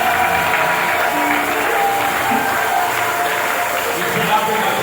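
A church congregation applauds in praise of the Lord, a steady, full wash of clapping from many hands that keeps an even level throughout, with voices calling out underneath.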